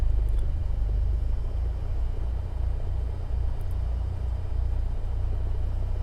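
A simulated Cessna 172SP piston engine runs steadily just after start, a continuous low droning rumble with an even throb, loud and close, with no talking over it.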